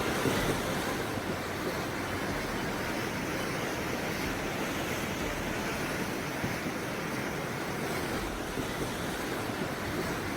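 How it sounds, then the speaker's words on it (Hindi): Monsoon floodwater rushes after heavy rain in Jammu and Kashmir, a constant broadband roar of churning water that stays steady and even throughout with no voices. "मॉनसून किस कदर विकराल रूप ले चुका है, उसका अंदाजा पानी की आवाज सुनकर और इस तस्वीर को देखकर लगा सकते हैं"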